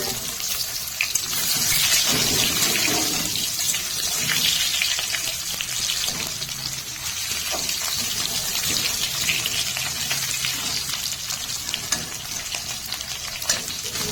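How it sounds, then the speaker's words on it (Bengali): Boiled potatoes fry in mustard oil with green chilies and five-spice in a kadai as a spatula breaks them up: a steady, close sizzling hiss runs throughout with no talking. "খুন্তি দিয়ে এইভাবে আলু ভেঙে হালকা ভেজে নেব।"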